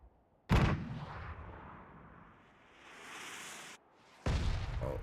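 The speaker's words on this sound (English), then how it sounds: "there's a mortar in play" Mortar explosions in an esports video game match: two loud, booming blasts with a rumbling tail between them, the first near the start and the second toward the end, with no voices.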